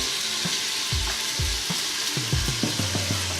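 Chicken frying in hot oil in a pan while pasta and chicken with homemade sauce are made: a steady dense sizzle with a run of sharp pops and crackles, close and loud, with no talking.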